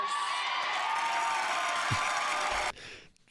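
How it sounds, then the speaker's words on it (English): A game show studio audience cheers and claps in a dense, loud crowd roar that holds steady and then cuts off abruptly, followed by near silence and a brief thump. "Why are they clapping?"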